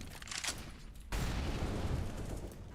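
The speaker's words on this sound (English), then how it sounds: "Throwing flashbang." Flashbang grenade detonating in Counter-Strike 2, a sudden loud blast followed by a dense ringing roar that fills the rest of the moment, preceded by brief game noise.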